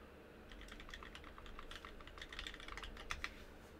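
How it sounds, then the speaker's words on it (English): Keys on a computer keyboard clatter in a quick, uneven run of light clicks, fairly close and steady, a few sharper strokes standing out near the end, with no talking. "Do you guys hear my keyboard when I type?"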